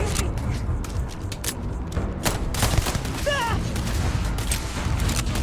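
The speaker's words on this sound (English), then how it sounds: "So now I'll engage in combat. Start shooting people." Rapid bursts of gunfire in combat in the video game Starfield, with sharp broadband shots crackling over a dense, continuous battle din and occasional game voices.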